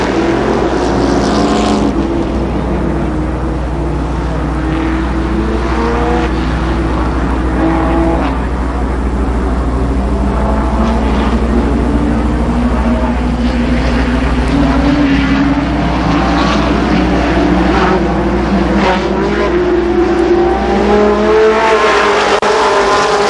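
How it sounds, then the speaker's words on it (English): Late model race cars roar around Columbus Motor Speedway in a 1992 heat race, loud continuous engine drone with rising and falling pitches as cars pass close, no talk over it. "make that 10 laps for the late model second heat race"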